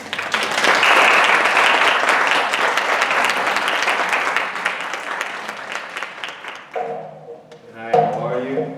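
An audience claps warmly to welcome a photographer, an associate professor, to the stage at an artist talk during an annual college symposium, the dense applause sustained for about seven seconds before tapering into scattered claps and the start of speech.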